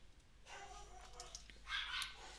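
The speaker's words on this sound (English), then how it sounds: "sorry if you can hear the dogs barking" Several dogs bark and yip in short irregular bursts at a distance, faint and muffled, with a louder cluster of barks near the end and no talking.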